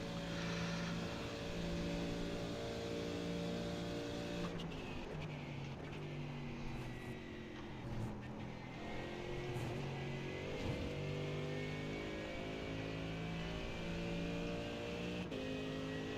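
Prototype race cars in an iRacing IMSA race at Daytona roar past with steady, loud engine tones that shift in pitch as they go by, one engine note overlapping another.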